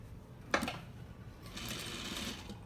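Sewing machine stitching down a zippered pocket: a sharp click, then a steady rising whir of the needle running continuously for about a second, fairly close and moderately loud.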